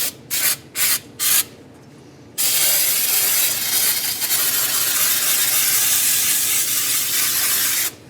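Cleaner being sprayed onto the timing area of a Nissan KA24DE engine during an in-car rebuild, with four short loud hissing bursts followed by one long continuous close spray hiss.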